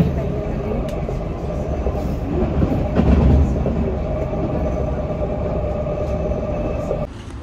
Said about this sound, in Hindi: अभी ट्राम से जाएंगे, ट्राम हमारे यहाँ से नज़दीक है।